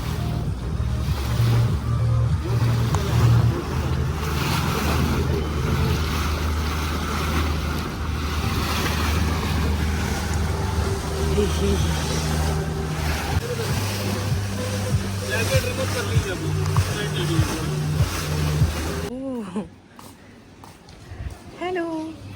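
Boat ride across the sea to Ross Island in the Andaman Islands near Port Blair, with a steady engine drone, wind buffeting and washing water running throughout, and voices talking over it before the noise suddenly drops near the end.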